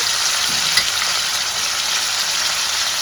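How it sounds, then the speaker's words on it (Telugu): Boiled mutton pieces fry in oil in a pan, giving a loud, steady, broadband sizzle with a faint stir or clink near the start and no talk. "కొంచెం సేపు ఆయిల్లో మగ్గించుకోవాలి సో ఇట్లా ఆయిల్లో అయితే మగ్గించుకోవాలి"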